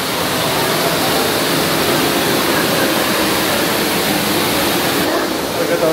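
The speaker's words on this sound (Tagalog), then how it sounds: "Waterfall." An indoor waterfall at an art installation, heard as a loud, close, unbroken rushing roar of falling water that holds steady throughout and eases slightly at the very end.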